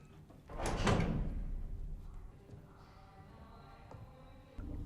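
A hidden secret door in a Falcon and the Winter Soldier scene opens with a loud scraping thud, then a fading rumble and a faint mechanical whine, ending with another thump.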